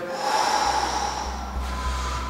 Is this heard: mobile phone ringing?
no